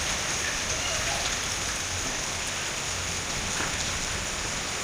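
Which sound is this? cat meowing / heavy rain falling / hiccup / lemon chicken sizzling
heavy rain falling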